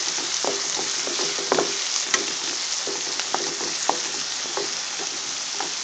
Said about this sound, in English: Next we're going to add in the onions, the finely sliced onions.